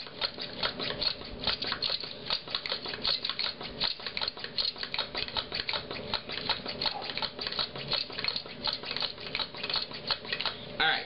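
Someone pumps the fuel bottle of a WhisperLite liquid-fuel backpacking stove, a close, rapid series of regular clicking, squeaking strokes repeated steadily many times without pause.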